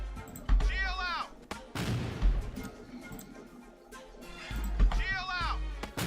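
Grenade launcher fire in a video game: loud bursts and heavy low booms spread across several seconds, with rising whistling tones near the start and again near the end, all set against steady game noise.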